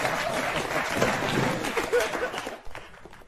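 Audience applause for a volunteer after a magic trick, steady clapping from a crowd that tapers off near the end, with some talk mixed in.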